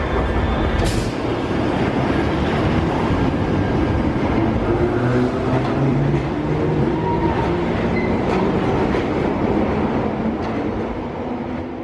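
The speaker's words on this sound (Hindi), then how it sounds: "इस ट्रेन सिस्टम को अंडरग्राउंड ट्रेन सिस्टम कहा जाता है" A London Underground train runs steadily on its rails with a continuous loud rumble and rattling wheel noise, heard from close by for the whole stretch.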